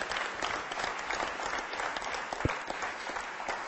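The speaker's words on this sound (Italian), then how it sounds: "io rivolgerei un altro grande applauso al campione europeo Federico Raggi." Sustained applause from a crowd at a speed down event, dense clapping at an even level for a few seconds, no voices.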